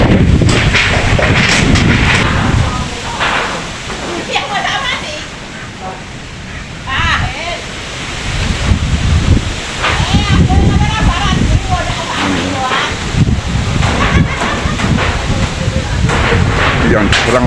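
Strong wind storm sweeping through Klaten, roaring and gusting in loud surges over rushing, crashing debris, with people speaking and exclaiming throughout.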